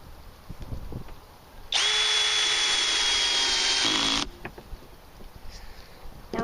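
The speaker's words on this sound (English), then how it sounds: "you can drill through the plastic and the wood underneath, or in my case composite fake wood" A cordless power drill drives a screw through a plastic P-shaped dock bumper into composite fake wood decking: one close, loud, steady whine lasting about two and a half seconds, with quieter handling noises before and after.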